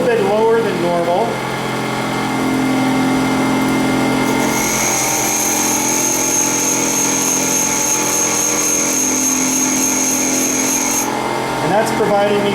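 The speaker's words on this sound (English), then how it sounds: "Now to get the clearance angle, all that I'm going to do is grind the heel of the drill." A twist drill bit's heel is ground against a bench grinder wheel for clearance angle, giving a steady high whine with a bright tonal band that holds for several seconds, close and loud, while a voice talks over it.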